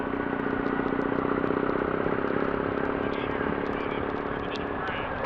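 A group of motorcycles rumbling slowly down the main street of downtown Mobile, their engines producing a steady, moderately quiet mid-pitched drone with faint mechanical clatter.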